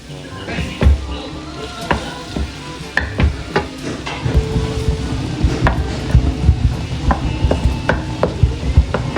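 Garlic cloves frying in melted butter in a pan, sizzling steadily for nine seconds under scattered utensil clicks and stirring clatter, with occasional voices in the background.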